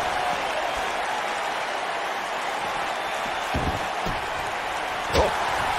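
Crowd roar at a pro wrestling match, steady and broad, with a few sharp impact thuds from the ring and one loud slap-like strike near the end standing out above the noise.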